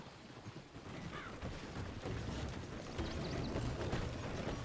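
Horse hooves clip-clop at a walking pace in the Red Dead Redemption video game, a soft, uneven patter of steps heard over a noisy outdoor ambience, faint and somewhat distant.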